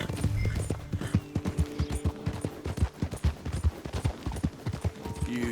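Horse hooves gallop in a steady rapid clip-clop rhythm, close and prominent, in the video game Red Dead Redemption 2, with some background game sound.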